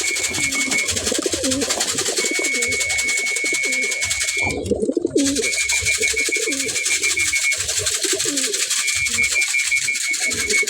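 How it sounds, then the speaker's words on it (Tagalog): Pigeons coo in a loft setting, soft repeated throaty rolling calls close by over a constant hiss and a steady high tone. "Nakita lang bumaba yung isang kalapati natin."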